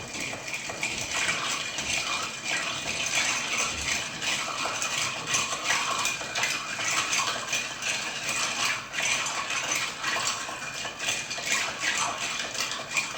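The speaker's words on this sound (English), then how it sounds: "Then we're going to give this a stir. It's going to be about a 15-second stir." Ice rattles and clinks against a mixing glass as a bar spoon stirs a Rob Roy of blended scotch, a steady rhythmic jangling churn lasting several seconds, close and fairly loud with no talking.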